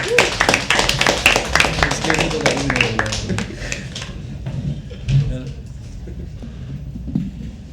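An open mic poetry audience at The Habitat claps for the next performer, a burst of close, loud individual hand claps that thins out and fades after a few seconds, with voices talking underneath.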